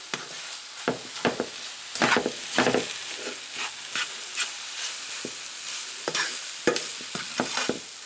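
Corned beef and onions frying in a pan, a continuous close sizzle broken by repeated scraping stirs of the utensil against the pan, with no speech.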